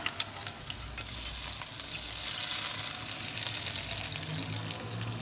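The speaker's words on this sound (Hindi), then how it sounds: "इसको हम घी में फ्राई करेंगे और इसके साथ लगाएंगे तड़का।" Steady, loud sizzling and crackling as a tempering (tadka) fried in ghee is poured over spinach for aloo palak, a continuous hiss with scattered pops, close by and without talk.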